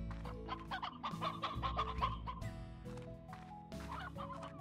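Chickens cluck in busy, repeated bursts inside the Slime Rancher game, a loud ranch flock of fowl sounding alongside game music with no talking.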